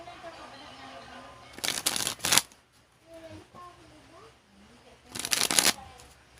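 Playing cards sprung one at a time from hand to hand, heard as two quick fluttering bursts of rapid riffling clicks separated by quiet, with a voice talking softly between them.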